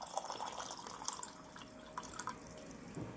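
Water poured from half a glass into a pressure cooker for homemade tomato soup with quartered tomatoes, a faint, light splashing and dripping that is quiet and close, with no talking.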